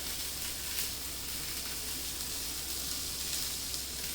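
Steady close sizzling of rice added to a hot pan with onions for shrimp risotto, a dense continuous frying hiss with no talking.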